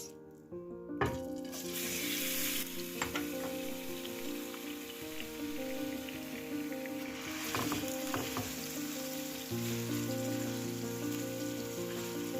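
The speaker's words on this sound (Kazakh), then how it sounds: "Жақсылап қуырып аламыз фаршты." Minced meat sizzling in a hot pan, a constant crackling hiss with a few spatula scrapes over a low steady hum.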